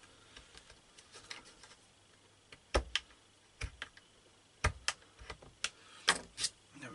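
Small cutting clicks and snips while a deck piece of a 1/400 scale Titanic wreck diorama is trimmed, irregular sharp ticks spread across a quiet background, close and faint.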